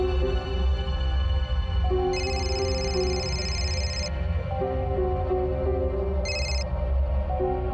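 Telephone ringing tone in a tense domestic scene, two bright electronic ring bursts sounding over a steady background music bed, the first longer, the second short.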